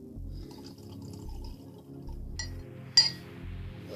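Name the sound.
water poured into glass of vodka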